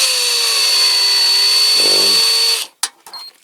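A power drill with a larger bit bores into a die-cast Corgi Toys Cooper-Maserati or Lotus-Climax Formula 1 model car during restoration, a steady loud whine that dips briefly under load, then cuts off with a few clicks.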